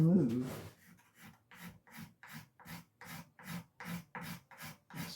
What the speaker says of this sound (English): a little scraper, and I'm literally going to just scrape along there